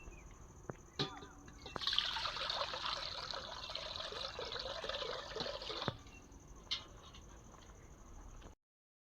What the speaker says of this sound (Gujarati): નાખી દઈએ પાણી.